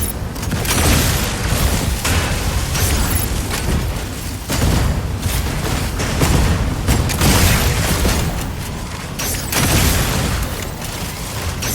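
Heavy bombing explosions in the mech combat video game Mecha BREAK, a dense, continuous barrage of loud booms and bursts with mechanical clatter, rolling on for the whole stretch with brief dips between volleys.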